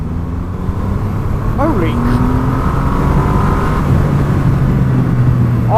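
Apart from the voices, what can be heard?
Triumph Rocket 3 R motorcycle accelerating, throttle rolled on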